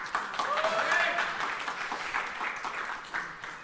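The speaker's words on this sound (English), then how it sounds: "Getting a lot of applause." Audience applause at the Redmi 4 smartphone launch event in India: a steady, fairly loud wash of clapping lasting a few seconds, with voices and cheers mixed into it.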